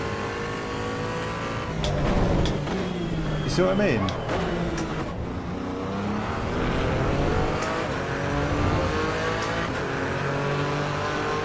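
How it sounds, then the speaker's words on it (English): A race car engine in the racing game Assetto Corsa Evo, revving hard and dropping through downshifts. Rapid pitch sweeps run loud and steady throughout, with someone talking over them. "And it sounds quite similar on the downshift"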